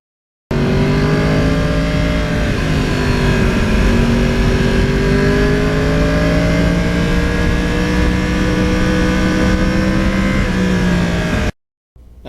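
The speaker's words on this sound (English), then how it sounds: "I still have that wonderful R1 motor with all that torque at the end of the throttle." A 2020 Yamaha R1 motorcycle engine drones loudly and continuously while riding near a lake in Denmark, a steady high-revving tone that rises and dips slightly before cutting off abruptly near the end.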